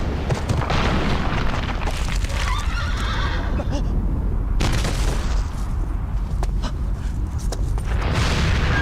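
A horse whinnies loudly in the video game Shadow of the Colossus amid heavy rumbling, clattering hooves and booming crashes, with a chaotic, dense mix throughout.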